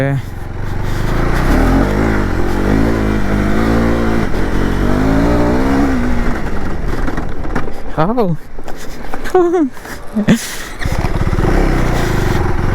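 A KTM motorcycle on an off-road dirt course, its engine droning loudly up close, then revving through rising and falling sweeps before settling back to a steady roar.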